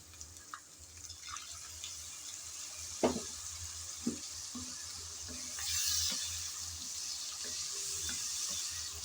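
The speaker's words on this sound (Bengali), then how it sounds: "সামান্য পানি দিয়ে সময় ধরে মশলা ভালোভাবে কষিয়ে নিতে হবে" Spice masala for a green jackfruit and prawn dish fries in a pan with a little water, giving a soft, quiet sizzle broken by a few sharp clicks and scrapes of stirring.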